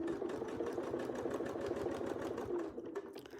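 A sewing machine runs continuously for free-motion quilting, its rapid steady needle chatter close and even throughout, with no talking.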